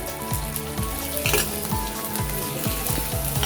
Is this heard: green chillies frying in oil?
yes